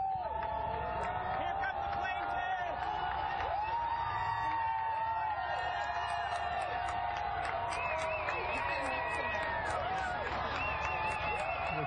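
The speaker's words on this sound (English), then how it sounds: "the screams of approval and clapping for the plaintiffs in the case coming down the front steps of the Supreme Court" A crowd outside the Supreme Court cheers, screams and claps, with a steady dense roar running throughout while a voice talks over it.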